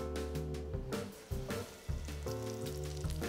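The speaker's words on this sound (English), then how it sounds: "Hear how they sizzle." Loud, close sizzling of potatoes frying in clarified butter, with a few abrupt bursts as pieces are stirred or dropped into the pan.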